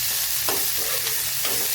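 Chopped tomatoes sautéing with softened onion in a pan for a quick pasta dish give a dense, continuous sizzle, with a few soft stirring scrapes rising through it, heard close and alone.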